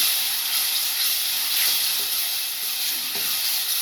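Greens and tomato curry frying in a pan, a continuous loud hissing sizzle with faint stirring scrapes, close and without speech.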